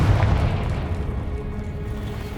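A Confringo fire spell explodes in Hogwarts Legacy, a single heavy low boom that hits at once and then rumbles and fades over a couple of seconds, with no talk over it.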